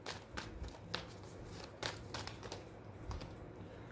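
Tarot cards are shuffled close by, a run of quick soft riffles and flicks in uneven bursts, fairly quiet, with no talking.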